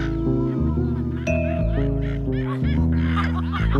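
A cartoon goose lets out a run of loud, stuttering honks and quacks, a comic sound effect in an animated series, nasal and close, with some voice layered in toward the end.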